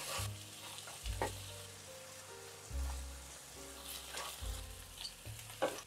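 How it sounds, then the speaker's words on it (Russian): Steady sizzling of carrots frying in butter in a pan, with occasional stirring scrapes and a low background hum throughout. "И все немного обжариваю, чтобы морковь стала мягче."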